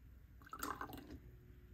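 A short trickle of liquid pours into a measuring container for homemade sublimation spray, a soft splash lasting about half a second, quiet and close, with no one speaking.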